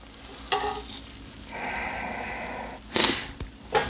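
A pizza grilled cheese sandwich cooks on a griddle, giving a soft sizzle, with a few sharp scraping and tapping bursts from the spatula near the end.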